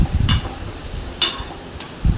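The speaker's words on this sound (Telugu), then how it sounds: "ఆలు, క్యాప్సికమ్ ఒకటేసారి వేసేసుకొని మంచిగా కలిపి మంచిగా కలుపుకోవాలండి." Potatoes and capsicum frying in a pan as a spatula stirs them, giving three sharp scraping clatters against the pan over a low background sizzle, close up with no talk.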